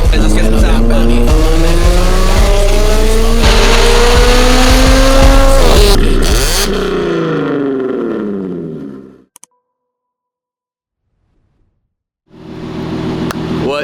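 Slammed Audi Q7 on a straight-pipe exhaust roars loudly up close, rising through revs before cutting off into silence, then briefly roaring again.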